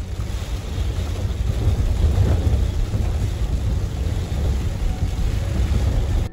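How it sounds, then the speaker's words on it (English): Violent storm winds roaring at night around a four-wheel camper parked on a lake shore, a loud continuous rumbling gust with buffeting on the microphone throughout, no voices. "the forewarned storm bared down on us, bringing violent winds unlike anything that we've ever experienced in our four-wheel camper to date"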